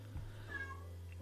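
Pet cat Yamato meows once in a drawn, rising-then-falling call somewhere in a home office, faint and in the background under a steady low hum.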